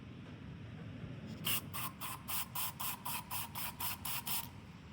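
Cleaner sprayed through the pinhole idle jet of a carburetor from a 400cc drag bike, a run of about ten short, sharp aerosol hisses in quick even bursts after a brief pause, close and fairly quiet.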